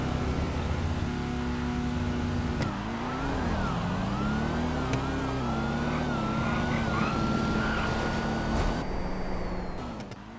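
A Hellcat and a GT Classic drag racing in GTA, with engines roaring steadily and revving up and down in pitch, then a rising wail as the cars pull away, loud and close.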